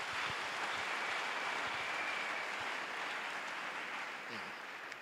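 Sustained applause from a church congregation, a steady broad wash of clapping that carries on evenly and then tapers slightly at the end.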